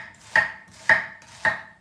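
A knife chops through onion on a cutting board in three evenly spaced, crisp strikes, close and clear with no voices.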